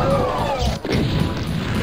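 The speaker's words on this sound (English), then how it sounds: "explosions everywhere" Dense, continuous game explosions from Ultimate Doom, with booming low rumble and crashing bursts layered over a busy, loud mix for just under two seconds, no talk heard over them.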